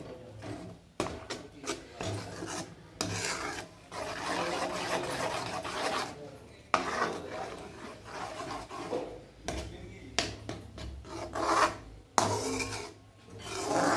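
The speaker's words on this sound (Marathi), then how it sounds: "सतत हलवत राहायचं याला." Raw green mango and jaggery jam being stirred in a pot, a steady rasping scrape of the spoon against the pot with brief pauses, close and continuous with no talk.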